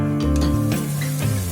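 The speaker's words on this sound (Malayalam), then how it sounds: "ചെറുതായിട്ട് സവാള ഒന്ന് വഴണ്ട് വരട്ടെ." Onions sautéing in a pan for chicken biryani give a steady, close sizzle that holds at an even level throughout, with no voices.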